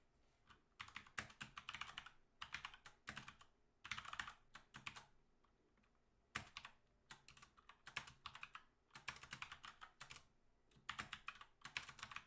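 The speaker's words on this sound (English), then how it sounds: "I'm having trouble typing." Rapid typing on a computer keyboard, clicking in bursts separated by short pauses, close and fairly quiet.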